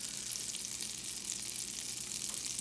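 Butter melts in a hot pan before beaten eggs go in for an Indian omelette. It gives a faint, even, hiss-like sizzle that stays steady throughout.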